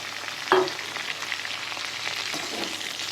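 Mustard seeds splutter and pop in hot oil with green chilli and cut raw mango for mango pachadi, a steady close sizzle with a sharp crackle burst early on.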